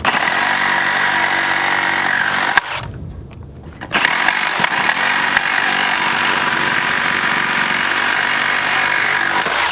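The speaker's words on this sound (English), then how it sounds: "Eric is cutting off some screws that were sticking out." Power tool cutting off protruding screws on a hillside garden raised bed, a loud continuous whining buzz that cuts out briefly partway through, then resumes steadily to the end.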